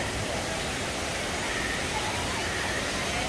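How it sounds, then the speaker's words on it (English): Artificial waterfall at Disney's Animal Kingdom, a steady broadband rush of falling water that holds even and fairly loud for the full stretch, with no voices over it. "There's a waterfall that's just a spinning wheel."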